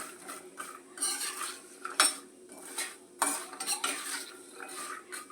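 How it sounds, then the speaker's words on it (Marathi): Almonds and cashews roasting in ghee over a low flame, repeated metal spoon scrapes and clinks against the pan over a gentle sizzle, close and alone. "त्या तुपामध्ये सुकामेवा भाजून घेत आहे बदाम टाकले असा बदाम टाकलेले आहे तुपामध्ये भाजायला"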